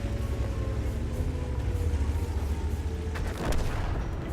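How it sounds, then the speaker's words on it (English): A teammate's tank explodes in World of Tanks, a deep booming blast with rumbling gunfire-like bursts over continuous low engine rumble, with a sharper crack near the end. "that explosion that you just heard was one of my teammates"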